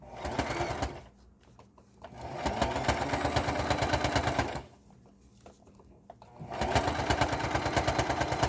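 A sewing machine runs a back stitch around the edge of a warrior loincloth garment in three bursts of rapid, even stitching, separated by two short pauses of quiet.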